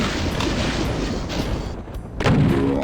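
In DOOM II, the super shotgun fires heavy booming blasts at Mancubi, one loud shot at the start and another strong blast near the end amid a noisy, rumbling game soundscape.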